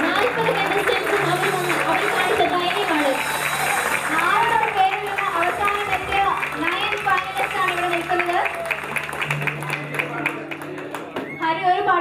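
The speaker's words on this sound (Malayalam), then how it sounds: "അവർക്ക് എല്ലാവർക്കും നിങ്ങൾ ഒരിക്കൽ കൂടി ഒരു വലിയ കയ്യടി" Audience at a junior TV singing show award night giving a big round of applause for the winners, continuous crowd clapping throughout with voices and chatter mixed in underneath.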